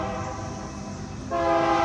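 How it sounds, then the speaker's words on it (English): A stone train passes with a loud, sustained horn blast that sounds throughout and swells louder near the end, over the rumble of rail cars rolling by. "Here comes that stone train."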